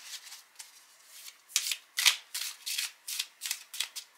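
Tarot cards are shuffled in a series of quick riffling bursts, close and fairly soft, with short pauses between.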